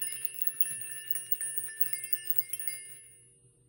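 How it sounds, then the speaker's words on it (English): A blue rainbow heart-shaped chime tinkles in a close, steady run of bright, delicate metallic rings and small strikes over a few seconds before trailing off, with no voices. "this blue rainbow chime heart."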